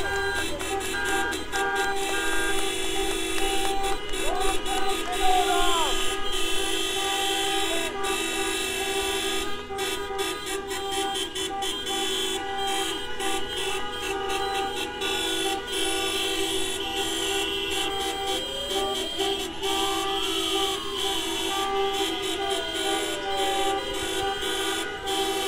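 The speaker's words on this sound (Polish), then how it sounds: "huk klaksonów jest tak wielki, że mam nadzieję, że chociaż Państwo mnie słyszą" Car horns at a women's street protest in Białystok, many honks overlapping and blaring continuously, with long sustained tones and short toots, one rising and falling, and a voice talking faintly underneath.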